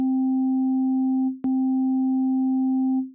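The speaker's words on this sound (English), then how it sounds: "Like a sine wave would be a very classical example of that" A steady, pure sine tone holds a single pitch with a faint higher overtone, broken once by a short click partway through before it resumes unchanged.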